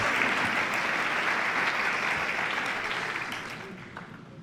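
Applause from a lecture audience after a talk, a thick crowd of clapping that holds steady and then gradually tapers off toward the end.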